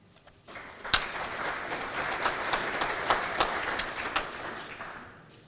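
Audience applause welcoming a speaker to the podium at a regional development launch event in Northern Ireland, a crowd's clapping swelling quickly, holding steady for several seconds, then tapering off.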